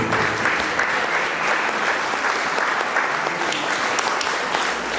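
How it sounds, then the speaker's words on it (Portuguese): Congregation applauding during a Portuguese-language church service, a steady, dense clapping that fills the whole stretch at fairly close range with no voices over it. "Aplauda o Senhor"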